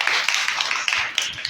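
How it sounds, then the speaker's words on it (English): Hands clap in a school classroom during a lesson, a quick run of crisp, closely spaced claps at a steady rhythm, fairly near and loud. "Clapping."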